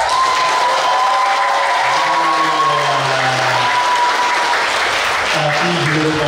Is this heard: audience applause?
yes